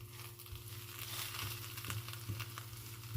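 Faint, steady sizzle of an adai dosa frying on a hot pan just after being flipped, a soft continuous crackle with a few light scraping ticks and no talk.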